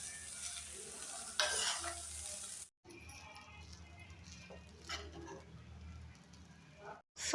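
Boiled rice with egg and tomato sauce being stirred and fried in a pan for street-style egg rice, with scraping strokes over a low steady sizzle, broken by two short pauses.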